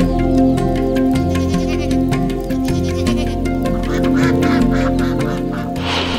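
Ducks quack loudly and repeatedly in a village yard, with sheep or goat bleats mixed in and a steady ambient hum underneath.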